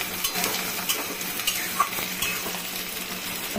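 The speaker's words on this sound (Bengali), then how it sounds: "পেঁয়াজটা দিয়ে একটু নাড়াচাড়া করবো" Two onions stirred while frying in a pan for a kochur loti dish, a steady close sizzle with light scrapes and clinks of the spoon against the pan, no voices.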